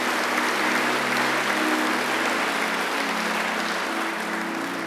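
Steady applause from a church congregation during a worship service, sustained clapping with a broad wash of sound, with a low musical drone underneath throughout.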